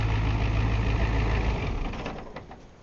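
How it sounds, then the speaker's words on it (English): A 1990 Ford F250 diesel engine idles with a steady low rumble, loud and close, then fades and drops away over the last second as the motor is shut down. "Obviously, diesels are loud."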